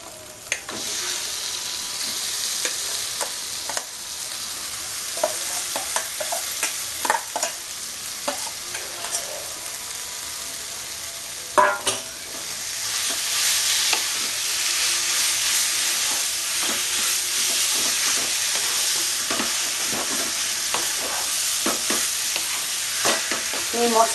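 Jackfruit being stir-fried in a pan of fried spice masala makes a steady sizzle and hiss, broken by scraping stirring strokes and clatter, close and continuous with no talk.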